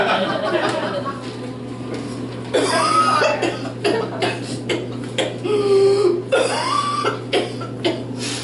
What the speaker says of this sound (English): That's a pretty bad cough.